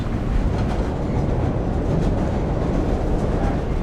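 Train running on tracks, heard from inside a carriage as a steady, loud broadband rumble with a faint rhythmic clatter, continuous throughout with no voices.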